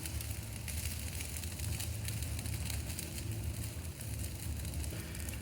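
Wood fire burning in a front-facing fireplace, a steady soft crackle and low rumbling roar running continuously at moderate level with no talk.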